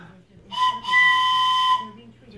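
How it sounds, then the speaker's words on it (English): A child blows a toy train whistle: one short toot, then a longer steady tone lasting over a second, loud and close in a quiet room. "You want to do the whistle?"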